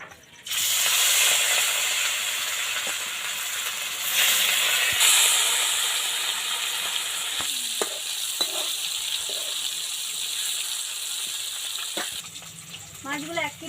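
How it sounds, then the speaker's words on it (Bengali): Fish sizzling as it fries in hot salted oil, a steady bright hiss running throughout with brief louder crackles and stirring knocks, someone speaking intermittently over it near the end. "একে একে মাছগুলো ভেজে নেব"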